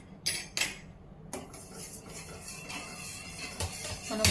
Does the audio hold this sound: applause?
no